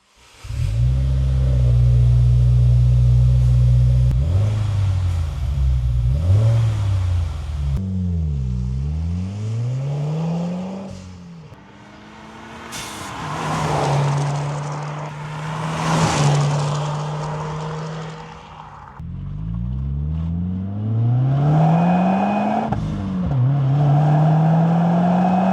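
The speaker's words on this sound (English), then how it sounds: "Last step here today is to fire it up and see how it sounds." A Subaru WRX fitted with an HKS exhaust fires up and is revved repeatedly, loud deep exhaust roars climbing and falling between idle burbles, close by with no talk.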